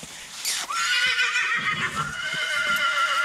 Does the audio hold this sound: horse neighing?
yes